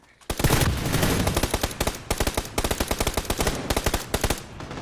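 Rapid automatic gunfire from the battle-royale shooter PUBG, loud and close, with sustained bursts of dense shots followed by a run of evenly spaced single reports.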